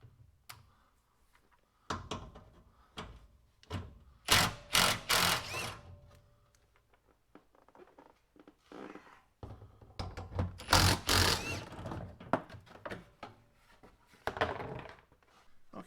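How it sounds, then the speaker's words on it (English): Metal parts and fasteners knock, clunk and rattle in bursts while a Toyota 4Runner skid plate and shroud are unbolted underneath, with several louder clattering spells and quieter gaps between. "and then the skid plate comes off."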